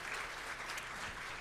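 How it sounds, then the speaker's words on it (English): A brief burst of dense, steady applause from an audience at a government census report release event, the clapping filling the room evenly. "then a round of applause for the Minister of Education"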